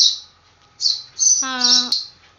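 Sparrow chicks in a nest, nearly ready to fly, give a few loud, close high-pitched squawks and chirps in quick succession, including one harsh buzzy call.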